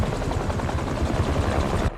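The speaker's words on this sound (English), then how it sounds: "a helicopter's blades." Helicopter rotor blades in the Spider-Man 2 video game, a steady, close, low thudding chop that continues unbroken and fairly loud throughout.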